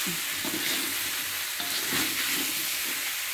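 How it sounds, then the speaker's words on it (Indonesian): Spoon stirring sambal lado together with tempe, tongkol fish and tofu in a hot pan, a steady scraping rhythm over continuous frying sizzle, close and moderately loud with no talking. "Kita aduk sampai benar-benar tercampur rata semuanya"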